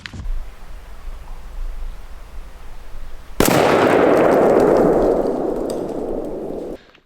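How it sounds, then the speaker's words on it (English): A Stevens 301 20-gauge single-shot shotgun fires once outdoors during a 40-yard pattern test, a sudden loud blast with a long rolling decay after a stretch of quiet background. "that's the last shot with the 20 gauge"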